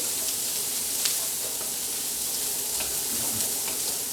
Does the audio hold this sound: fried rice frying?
yes